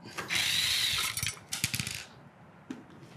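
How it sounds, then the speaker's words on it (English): A power driver backing out two T20 security screws from the back of a control board housing, giving a short high whirring burst followed by a few clicks and rattles, close and clear. "So I'm just gonna run those two screws out."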